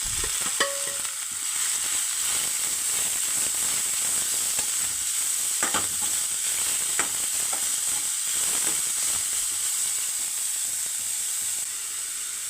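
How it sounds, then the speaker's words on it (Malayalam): Grated papaya tossed into a hot pan with dried red chilies and curry leaves for a Kerala thoran, hissing and sizzling steadily throughout with occasional spoon scrapes and clinks, close and fairly loud with no talking. "ഇനി ഇതിൽ നമ്മൾ തിരുമി വെച്ചേക്കുന്ന പപ്പായ ഇട്ട് കൊടുക്കുക"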